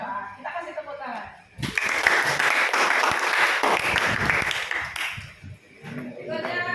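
A classroom group of teachers claps together during a coaching session, a burst of dense applause lasting about three seconds, with talking before and after it.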